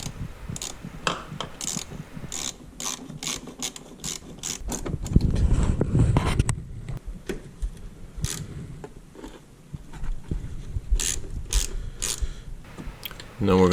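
A ratchet with an extension tightens bolts on a Honda CR-V during a tube seal replacement, giving steady rapid clicking strokes in repeated bursts, close and fairly loud, with light background noise and no speech.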